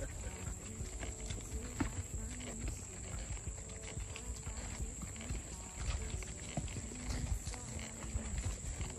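Horse hooves clip-clopping steadily during a trail ride at a stables in Griffin, Georgia, a faint, continuous walking rhythm under outdoor ambience and occasional voices.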